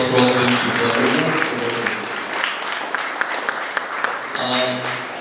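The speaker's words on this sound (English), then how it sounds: "Please a round of applause for all of them." Audience applause for a technology panel at a Pakistani forum on digital progress, dense clapping filling the room for several seconds beneath a steady hum of voices.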